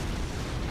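Explosions from a strafing run in a tank combat video game: a dense, loud, continuous roar of blasts and rumble filling the short moment with no pause, close and alone.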